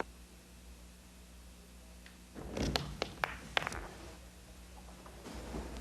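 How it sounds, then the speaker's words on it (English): Billiard balls click together on a pool table: a soft thud as the cue ball comes off the cushion, then a short burst of three or four crisp clacks over a quiet room hum. "The cue ball goes part way up the cushion, comes back again, and makes the second ball."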